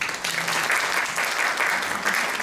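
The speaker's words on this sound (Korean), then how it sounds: "큰 박수로 맞아주십시오." Steady, moderately loud applause from attendees welcoming a lecturer at a geriatric medicine society meeting on osteoporosis. The clapping runs continuously and evenly with no clear talk over it.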